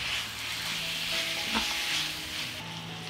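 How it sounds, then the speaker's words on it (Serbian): Meat with paprika and tomato paste fries in a pan, giving a steady, close sizzle with soft stirring scrapes throughout and no voices. "I sve ćemo ovo pržiti još 10 minuta."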